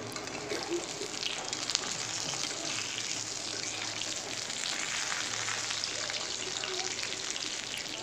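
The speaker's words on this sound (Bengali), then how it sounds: "মাছগুলো বেশ সুন্দর কালার চলে এসছে, বেশ ভালোই ভাজা হয়ে গেছে মাছগুলো" Rope fish frying in hot oil, giving a steady, dense sizzle that holds at an even level throughout with no pauses.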